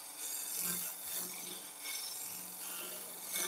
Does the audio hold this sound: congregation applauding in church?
no